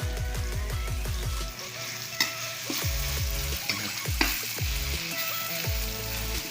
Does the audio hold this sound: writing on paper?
no